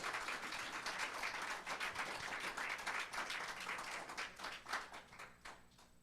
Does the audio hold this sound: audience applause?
yes